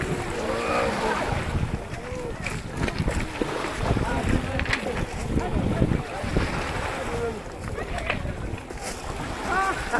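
Refugee boat arriving at the shore on Lesbos amid wind buffeting the microphone, surf and sea noise, with a busy wash of voices and shouts at moderate distance throughout.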